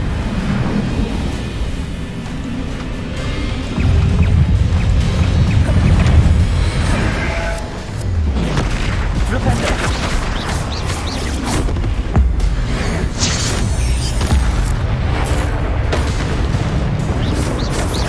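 Repeated Bombarda spell explosions in the game Hogwarts Legacy, heavy booms and crashing blasts rolling one after another over a dense, continuous battle din.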